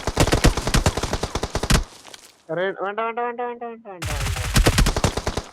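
Rapid automatic gunfire from a video game rattles in dense bursts before and after a pause, with someone speaking briefly in the gap.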